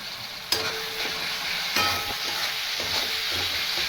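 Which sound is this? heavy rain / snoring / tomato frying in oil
tomato frying in oil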